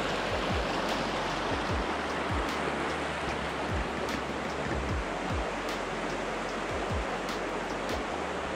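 Small rapids rushing along a river, heard from a Moken 12.5 V2 kayak: a steady, fairly loud broadband wash of flowing water that is continuous throughout, with no voices.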